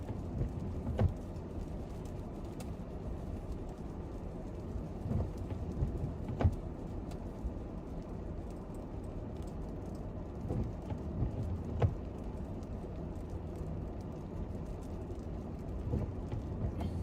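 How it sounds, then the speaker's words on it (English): Steady rain with scattered low rumbles of thunder at Texas Motor Speedway during a freezing rain storm, a constant wash of precipitation broken by a few faint distant booms. "we're talking about major freezing rain."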